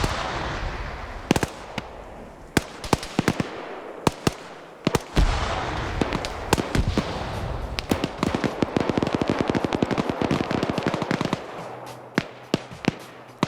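Smoke and frag grenades going off in a large multiplayer shooter battle, with a dense barrage of sharp cracks and bursts, some close and loud, over continuous rumbling gunfire and no speech.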